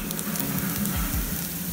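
Tofu fries in a little oil in a pan on the stove, giving a steady close sizzle with faint crackles throughout and no talk.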